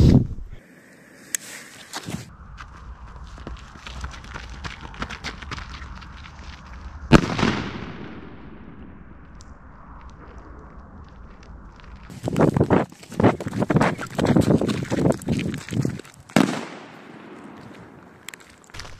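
A firecracker, a strong homemade Big Bang type with five grams of charge, bursts into a series of loud crackling pops and sharp bangs outdoors. The bursts come in dense clusters, with quieter gaps between them.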